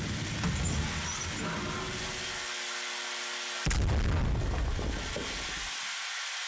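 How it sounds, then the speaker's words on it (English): A muffled explosion goes off inside an SCP-themed horror video game, a sudden loud burst of rumbling noise that cuts through a humming background and then fades into quiet. "An explosion happened."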